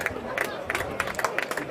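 An audience at an amateur football awards gala claps in a steady patter of individual hand claps, moderately close, with crowd murmur and talking mixed in.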